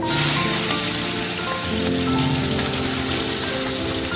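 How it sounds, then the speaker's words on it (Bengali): Shrimp fry in hot oil in a wok-like pan (kadai), giving a steady, loud, dense sizzle that hisses like rain and holds without a break. "চিংড়ি মাছটা তিরিশ থেকে চল্লিশ সেকেন্ডের মতো নাড়াচাড়া করে ভেজে নেবো"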